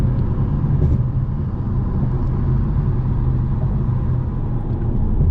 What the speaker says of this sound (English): right now the valves are fully closed, the burbles are off, car is in comfort mode, and it sounds stock